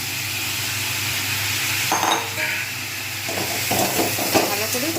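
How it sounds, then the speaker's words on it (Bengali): Food stirred in a hot pan of fish curry sizzles steadily nearby, with a spatula clinking and scraping against the metal in short bursts. "ভালো করে নাড়ছি"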